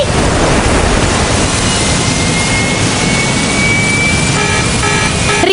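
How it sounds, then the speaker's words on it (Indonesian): A loud, continuous jet engine roar fills the whole stretch, broadband and steady, with a faint rising whine near the end. "Suara mesin semakin berisik."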